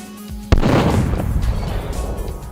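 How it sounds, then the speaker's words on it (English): Rapid-fire weapon in the Duke Nukem Forever 1996 prototype, a 2D platformer, goes off with a sharp blast that trails into a loud, rumbling roar lasting a couple of seconds. "Rapid fire, which sounds similar to the Ripper cannon."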